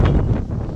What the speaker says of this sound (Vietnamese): Hiện tại là gió rất là to các bác ạ.